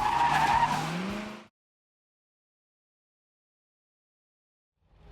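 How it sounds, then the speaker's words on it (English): A Ford Crown Victoria Spec Panther race car runs on the Nashville Superspeedway track, heard as a loud burst of engine and tyre noise for about a second and a half before it cuts to silence. "Our Spec Panther hits the track, and we have a blast putting our driving skills to the test."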